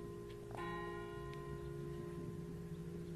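A church bell in Vézelise rings out with a sustained, shimmering tone and long overtones. A second strike comes just after the start and keeps resonating through the rest of the stretch, with no voices.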